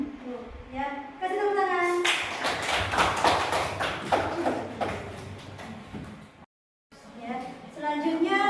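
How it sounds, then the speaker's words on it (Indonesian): Classroom applause from a class of students in a ninth-grade Islamic jurisprudence lesson, a burst of rapid clapping lasting several seconds between stretches of a teacher talking, cutting off abruptly before the speech resumes. "Kasih tepuk tangan"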